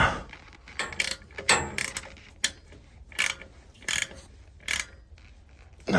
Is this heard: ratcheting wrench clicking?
yes